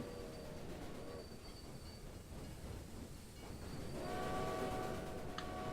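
Train pulling out of a station in the Railway Empire railroad strategy game, a steady rolling rumble with a faint whistle tone that swells louder toward the end, no talking.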